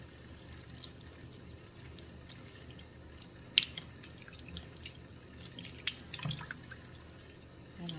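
Tap water runs and drips while salted sausage casings are rinsed in a sink, with light splashes and patters close by.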